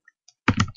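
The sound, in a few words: typing a boot command on a computer keyboard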